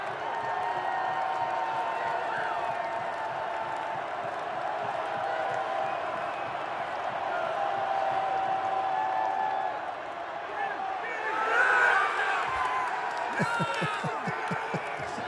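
A stadium crowd at a Detroit Lions NFL game roars and cheers loudly for player Hutch. The noise is a steady, dense wash with a surge near the end and scattered claps.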